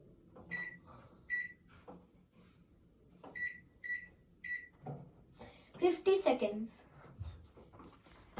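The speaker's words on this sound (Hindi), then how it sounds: "अब मैं इसको माइक्रोवेव करने के लिए रखूंगी 50 सेकंड्स।" A microwave oven being set to heat bread laddoo batter: a series of bright electronic keypad beeps, then clunks and rustling as it starts, with someone talking throughout.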